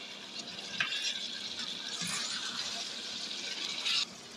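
Boiled, pre-fried eggs being stir-fried in spicy masala for ডিম ভুনা, giving a steady sizzle with scraping stirring strokes and a few louder clatters, moderately close.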